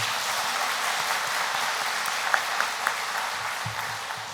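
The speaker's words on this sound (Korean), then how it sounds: "우리 같이 사랑하고 축복하고 격려하는 의미로 박수 한번 하십시다" Church congregation applauding during a Sunday afternoon service, a steady moderate wash of clapping from a room full of people, fairly soft and even throughout, with a few sharper claps standing out near the end.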